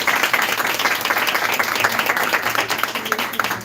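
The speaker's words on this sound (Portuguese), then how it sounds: "Salva de palmas." A Portuguese-speaking audience gives a round of applause, with steady, dense clapping heard throughout at moderate loudness.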